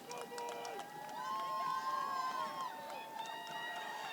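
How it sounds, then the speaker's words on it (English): A high school football crowd cheering for the Trojans in a BR versus BC High game, a distant rising roar of voices and shouts behind close play-by-play commentary. "This crowd's starting to make some noise for the Trojans"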